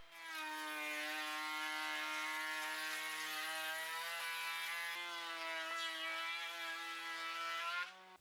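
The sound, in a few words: Dewalt 2 1/4 HP router cutting softwood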